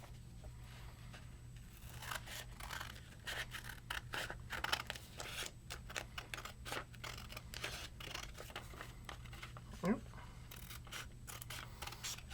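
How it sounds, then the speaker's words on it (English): Quiet, close snips and scratchy cuts of scissors through folded origami paper, coming in irregular bursts over a low steady hum. "Then take your scissors and you're going to cut off this long strip."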